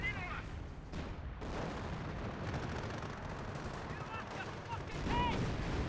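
An artillery barrage in Company of Heroes 1 produces continuous rumbling explosions and crackling gunfire, with a few whistling shells overhead. Someone talks over the din throughout.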